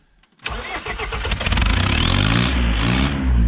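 A diesel vehicle engine cranks and catches after a brief quiet moment, then settles into a loud, rough running roar with rising revs, close by and with no talking over it.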